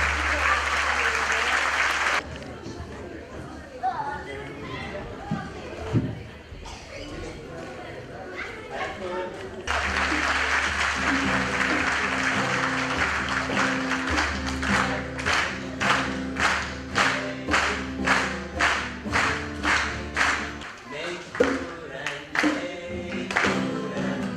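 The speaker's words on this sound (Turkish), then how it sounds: "İbrahim'e de alkış." An audience applauds after a children's orchestra concert, starting with a wash of clapping and then settling into rhythmic, beat-like claps with music and speaking voices mixed in.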